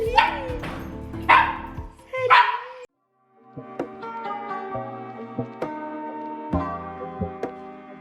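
A dog barks three times up close in a resonant room, the barks spaced about a second apart, followed by a few seconds of quiet clinking and tapping.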